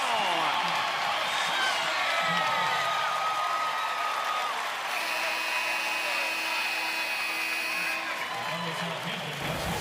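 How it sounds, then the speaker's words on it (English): Basketball arena crowd at a tournament game cheers and applauds loudly and steadily after a scoring play, a dense continuous roar throughout. "definitely the crowd involved right now"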